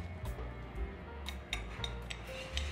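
Sugar and cinnamon powder being mixed on a plate for a cocktail rim, light clinks and taps of a utensil against the dish, close and fairly quiet, with gentle scraping between the knocks.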